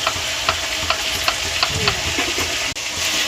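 Ginger, garlic and green chilli paste sizzles and crackles steadily as it is stirred into meat in a frying pan, with regular scraping strokes of the spoon close up and no talking.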